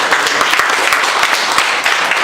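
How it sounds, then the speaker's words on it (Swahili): A crowd at a women and girls dialogue forum in Riruta claps for the area chief, with dense, steady applause running throughout and individual claps standing out. "tumpigie makofi Madam Chief"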